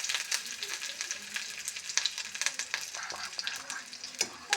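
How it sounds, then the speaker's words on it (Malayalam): Curry leaves and other ingredients for a pappadam curry fry in a pan while being stirred, a close, quiet crackling sizzle peppered with soft scraping strokes, with no speech. "അതിനെ ഒന്ന് ഇളക്കി കൊടുക്കുക."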